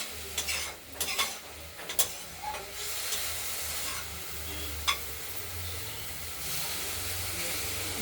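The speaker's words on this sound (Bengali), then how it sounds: "ব্রোকলি ভাজা হয়ে গেছে, নরম হয়ে গেছে" Broccoli frying in a wok, stirred with a utensil, giving a steady soft sizzle with scraping and stirring clatter throughout, moderately quiet and close, with no talk.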